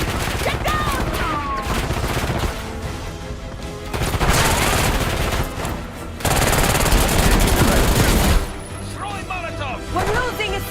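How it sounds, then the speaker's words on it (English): Heavy gunfire in the Call of Duty: Black Ops 6 campaign, with bursts of automatic rifle and machine-gun fire cracking in dense volleys and a few gaps, while people shout over the shooting. "They're shooting! Get down!"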